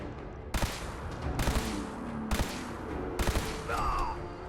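Four sharp gunshots ring out in the video game Fallout 4 Far Harbor, evenly spaced about a second apart, loud and punchy over a low game ambience, with a brief whine after the last.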